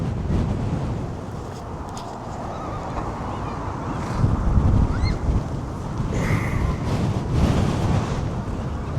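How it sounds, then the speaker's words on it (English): Strong crosswind gusts over 30 mph roar across the microphone on a slowly ridden electric unicycle, a loud continuous low rumble and buffeting that swells in places, with no clear speech. "these winds are too much today"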